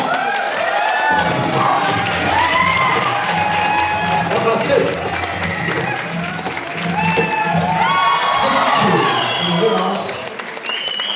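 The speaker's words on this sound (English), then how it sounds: "Please give him a big clap." A crowd claps and cheers after a Kalaripayattu martial arts show in Thekkady, Kerala, with shouts and whoops rising over the applause while a voice speaks briefly near the end.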